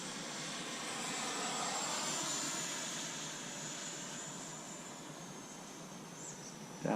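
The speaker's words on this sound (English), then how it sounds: "So this is about 3/4 throttle. Let's do a fast pass here." A foam board 64mm EDF model jet makes a fast pass at three-quarter throttle: a steady high ducted-fan whine swells and then slowly fades, heard alone outdoors with faint insect-like background noise.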